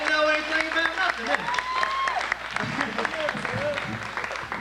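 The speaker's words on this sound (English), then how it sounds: "how about another big round of applause for Lonnie, huh?" Guests at Lonnie's 39-and-holding birthday party applaud him, a moderate round of clapping mixed with whistles and cheers, while voices talk and call out over it.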